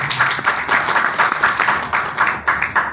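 An audience at a company plan presentation claps steadily and fairly loudly, with a regular pulse of many hands throughout.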